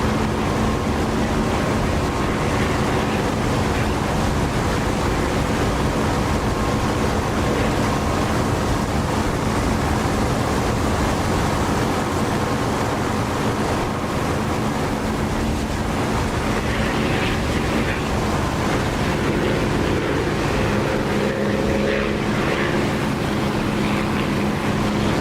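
An aircraft engine in the DCS flight simulator game roars at high throttle as a dense, continuous, loud drone with a broad rushing texture and no letup, heard without any talking.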